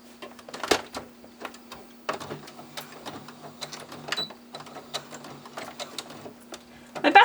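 A sewing machine stitches along the seam of a bat plush, its needle tapping in quick bursts with brief pauses and a steady low motor hum throughout, close and fairly loud with no talking.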